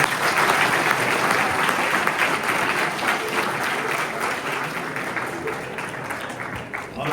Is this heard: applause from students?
yes